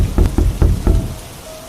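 Heavy rain pours steadily as a broadband wash, with several loud, close thumps in the first second, before easing to a quieter patter with a faint tone near the end.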